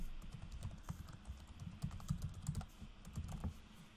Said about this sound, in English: So I'll type in Adam Storch, and I'll put in an email address.